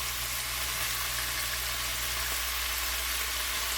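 Bacon sizzles and fries in a pot, a steady, dense crackling hiss that stays loud and even throughout with a low hum underneath.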